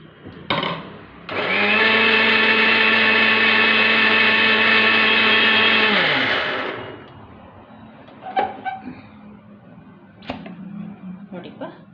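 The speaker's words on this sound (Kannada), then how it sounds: "ಸ್ವಲ್ಪ ಸ್ವಲ್ಪನೇ ಹಾಕ್ಕೊಂಡು ಮಿಕ್ಸಿ ಮಾಡ್ಕೊಳ್ಳಿಪ್ಪ." A mixer grinder whirs loudly and steadily for about five seconds, blending soaked flattened rice into chutney in a home kitchen. It spins down, then a few faint knocks and clatters follow.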